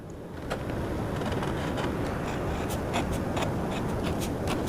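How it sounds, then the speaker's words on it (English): A glass dip pen scratching across paper, with steady close-up scraping and short stroke accents running continuously throughout. "It sounds like the glass is scratching the paper."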